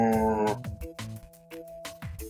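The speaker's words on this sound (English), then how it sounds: "and a lower frequency would sound like this." A low-pitched sound serves as an example of low frequency: a deep, buzzy, moo-like harmonic tone that wavers and pulses for about two seconds, fairly loud and heard alone.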